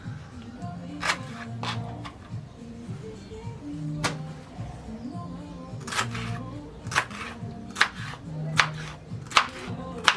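A knife cuts through a pineapple on a board, giving a series of sharp, irregular chopping taps that grow louder and more frequent toward the end over a quiet room background.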